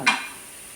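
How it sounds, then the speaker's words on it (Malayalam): Onion and beans sautéing in a pan for upma: one quick stirring scrape followed by a soft, steady frying hiss, brief and close. "ബീൻസ് ഇട്ട് വഴറ്റുക"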